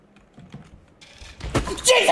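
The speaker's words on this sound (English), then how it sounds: "You can hear me like slam my keyboard, bro." Computer keyboard keys being hit, starting as scattered soft taps and building into loud, harsh slams and clatter near the end, with some voice-like sound mixed in.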